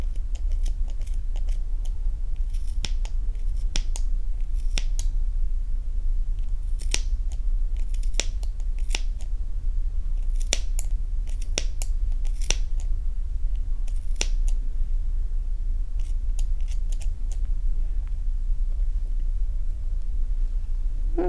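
Scissors snip through the loops of a crocheted ear warmer in a long run of crisp, close, irregularly spaced cuts over a steady low hum, with no talking.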